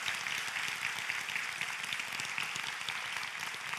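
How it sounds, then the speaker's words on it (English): A conference audience claps steadily and fairly loudly throughout, an even, continuous wave of applause from a large crowd with no voices rising above it. "applause for the people in the blue shirts who make that happen almost perfect"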